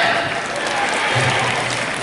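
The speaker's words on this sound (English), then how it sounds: "And please give him an applause." Audience applause for a speaker at a talk on anti-aging products, a short burst of dense clapping with some talk underneath.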